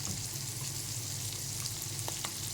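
Dried fish frying in a pan with ginger-garlic paste makes a constant, dense sizzle, with a couple of faint crackles near the end and no talking.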